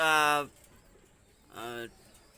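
Two deep, resonant coos from Pakistani high-flyer pigeons ring out close by, one at the start and another after a short pause, with quiet room noise between.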